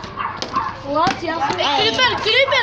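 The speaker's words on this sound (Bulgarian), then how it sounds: "Снимай кучето." A dog close by gives short yips and whimpering barks in an irregular run, with people talking around it.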